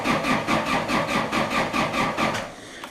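A Ransomes diesel lawn mower engine cranks over with a rapid, even chugging rhythm, close and loud, repeating for about three seconds without catching.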